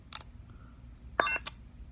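Ardent NBv4 lightsaber soundboard giving a short electronic beep, a couple of brief quiet tones standing alone against near silence.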